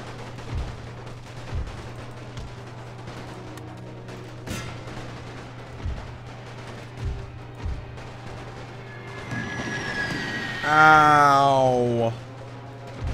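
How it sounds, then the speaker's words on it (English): Howitzer artillery fire in The Great War mod game, heard as a series of dull distant booms spaced several seconds apart over a low steady hum, followed by a louder burst near the end. "Damn, those howitzers are strong."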